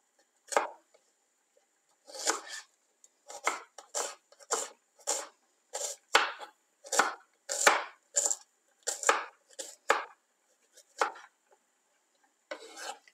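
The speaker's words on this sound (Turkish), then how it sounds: "Bunu yarım ay şeklinde doğruyorum." A knife slices a small dry onion into half-moon pieces on a board, with a regular series of close, crisp cuts and short gaps between them, sounding clearly with no talk over it.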